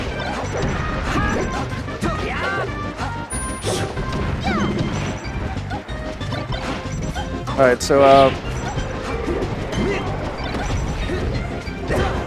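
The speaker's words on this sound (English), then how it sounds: "Man, as with these forward smashes, man, they're just blowing." Forward smash attacks landing in a Super Smash Bros. Melee teams grand final, with repeated sharp crashing hits, whooshes and game effects over crowd noise while a commentator talks throughout.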